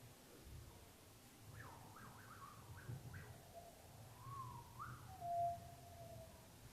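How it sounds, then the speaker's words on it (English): During a guided meditation, a soft whistled breath rises and falls in gliding, wavering tones, a few short swoops and then a longer sustained note, quiet against faint low background rumble. "Whistle breath."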